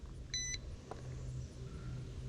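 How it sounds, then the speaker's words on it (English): A drone remote controller gives a short, clear electronic beep, followed by a faint click, over a low background hum in a quiet room. "You can hear the remote beeping"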